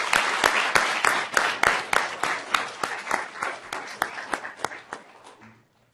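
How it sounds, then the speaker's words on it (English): At the Froessel moot court final round at New York Law School, the audience applauds the judges with a full burst of clapping that thins out and fades to silence near the end. "Let's have a round of applause for our judges."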